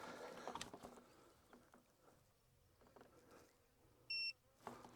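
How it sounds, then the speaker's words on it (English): An EcoFlow Delta 2 portable power station gives a single short, loud electronic beep as it is plugged in, sounding near the end after a stretch of quiet handling noise and room hiss. "When I plug this in, you might hear it beep"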